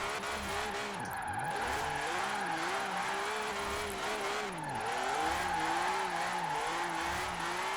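Engine of a BMW drift build in Forza Horizon 4, revving high and wavering up and down with gear changes and tire squeal, a loud continuous game-car roar with a brief dip midway.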